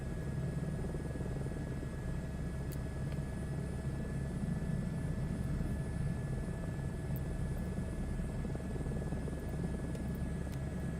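A helicopter on a beach sits near at a steady, even rotor and turbine drone as its engine settles to flight idle, loud and continuous with no talk.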